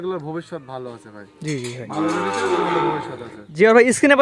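Cattle on a cattle farm low nearby in a long, drawn-out moo, with someone talking before and after the call.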